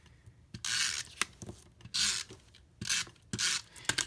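Snail tape-runner adhesive being rolled onto the back of a Christmas fun fold flap card in short rasping strokes, four or five bursts with brief pauses between them, close and clear with no talk.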